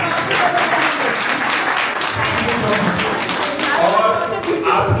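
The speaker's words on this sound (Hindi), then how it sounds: "उसकी ये तालियां बजाएं" An audience claps loudly and continuously at a talk with a film actress, held on the grounds of a climate department. The crowded applause stays strong throughout, with a few nearer, sharper claps standing out.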